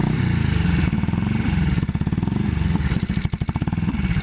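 A 1981 Yamaha XS400 Heritage motorcycle being ridden, its engine running with a rhythmic low throb that dips and shifts in pitch as gears change, steady and fairly close throughout.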